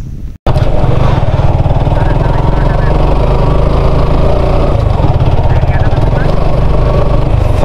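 A motorcycle engine labours loud and close in first gear, climbing a steep hill road near the Mizoram border, with a steady, droning, throbbing note that continues throughout after a brief break at the start.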